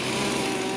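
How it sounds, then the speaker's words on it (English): A big chainsaw roars steadily at full throttle while carving a large piece of wood, a loud, close, unbroken engine whine with no voices. "We start out with the big chainsaws and try to get rid of as much of the big piece of wood as we can"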